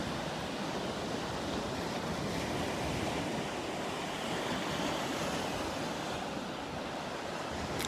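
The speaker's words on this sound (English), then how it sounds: "The wind's a little bit out of the northwest. You might hear it blowing a little bit." Steady wind blows along the beach at Pawleys Island on a June sunrise, light northwest breeze mixed with continuous rolling surf, a broad constant roar with no voices.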